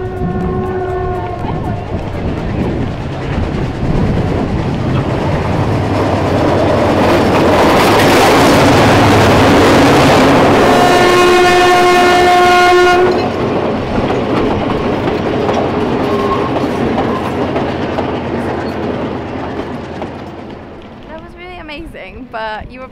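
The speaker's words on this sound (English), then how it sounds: "Train's coming." A train rumbles across a bridge in the hills of Ella, Sri Lanka, growing loud and close with rhythmic clatter and a long horn-like tone, then fading away, with people talking at the start and end.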